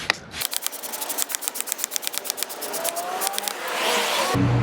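A rapid series of short hissing spray bursts of iron-remover cleaner onto a car wheel, about a dozen in quick rhythm, followed by a longer continuous hiss, close by.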